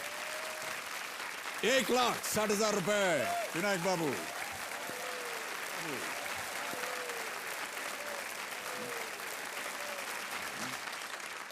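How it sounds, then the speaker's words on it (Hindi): Studio audience applause on a TV quiz show, steady clapping throughout while a host's amplified voice speaks loudly over the start. "तालियां बजती रहनी चाहिए"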